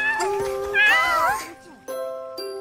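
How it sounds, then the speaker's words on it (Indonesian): A cartoon cat meows in several short rising and falling cries, close and fairly loud, in a children's animated show with a bright electronic tone sounding after the cries. "Aku sama Meme nyelamatin kucing ini"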